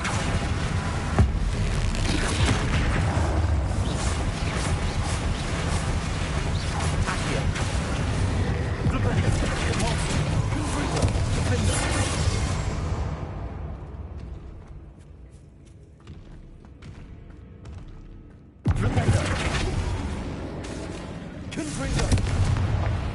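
Bombarda spell blasts in Hogwarts Legacy, heavy booming explosions and crackling spell effects rolling on continuously, a quieter lull, then another loud surge.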